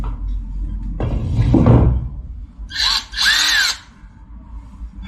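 A cordless impact wrench fires off in short bursts, a harsh clattering whir around one second, then a higher whining spin-up near three seconds, with handling knocks between and some quiet gaps.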